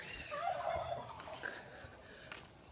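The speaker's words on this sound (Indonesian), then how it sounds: "katanya ada ayam kalkun cuy" A turkey gobbles nearby at a Ciwidey tourist spot near Bandung, one rapid warbling call followed by fainter clucks over quiet outdoor background noise.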